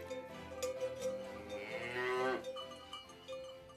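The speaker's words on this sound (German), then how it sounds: "Wir haben auch Kühe da, die jeden Tag natürlich gemolken werden." Cows on an alpine pasture at Alpe Steris in the Walsertal moo, one long drawn-out call rising and falling mid-clip, while cowbells clank softly in the background.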